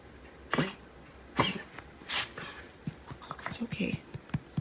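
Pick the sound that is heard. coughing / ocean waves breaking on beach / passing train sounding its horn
coughing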